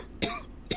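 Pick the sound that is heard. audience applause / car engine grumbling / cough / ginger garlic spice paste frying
cough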